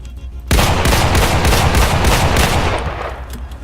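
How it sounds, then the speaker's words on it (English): A shotgun in the video game Islands of Nyne fires in a rapid, loud burst of closely spaced blasts that starts abruptly and continues to the end, with the shots fading slightly toward the close. "So you could put some bullets into someone from pretty far away with this shotgun."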